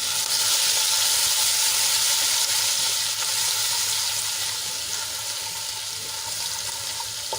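Ginger, garlic and chili paste with cumin and asafoetida sizzles steadily in hot oil, a continuous bright crackling hiss that stays loud throughout and eases slightly toward the end, with no voices.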